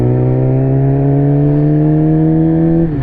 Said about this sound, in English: Love the sound of this M4, man.